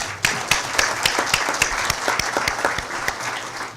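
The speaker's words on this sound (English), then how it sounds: "Let's give her a round of applause." A crowd at a mayors' panel applauds a speaker, a moderate-sized round of clapping with several distinct, sharp individual claps standing out over the steady patter, heard without any talking.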